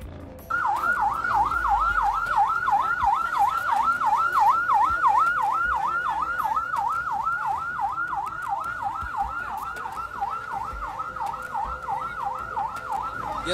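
A wailing ambulance siren in Indonesia, its steady up-and-down sweep repeating loudly and continuously from near the start to the end, heard alone with no talk.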